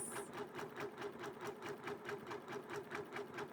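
Janome MB-4 embroidery machine stitching an appliqué butterfly on a quilt-in-the-hoop block, a fast, even mechanical chatter of needle strokes, close and continuous.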